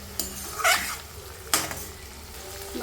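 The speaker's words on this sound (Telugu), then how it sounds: "మధ్యలో ఒక్కసారి అలా తీసి కలియబెట్టాలి." A spoon stirs tomato egg curry in a pot, with a few scraping clinks against the metal in separate bursts, and a brief whining, meow-like tone slips in between them.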